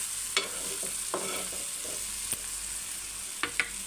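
Cauliflower fry with raw onion added on top is stirred in a pan over medium flame, a steady hiss of sizzling broken by a handful of sharp spatula scrapes and clicks, close up with no talking.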